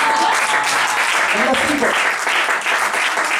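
A church audience at a Christian gathering applauds steadily and loudly throughout, while someone speaks over the clapping.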